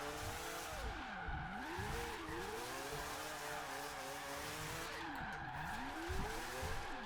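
Tires squeal in long wavering arcs as a 4-rotor Mazda Savanna RX-7 FC3S drift build slides through corners in Forza Horizon 3, its engine droning steadily underneath for the whole stretch.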